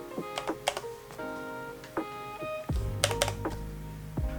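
Typing on a Keychron K3 wireless low-profile mechanical keyboard: bursts of sharp, close clicky keystrokes in uneven clusters, with short pauses between runs and a few louder key hits.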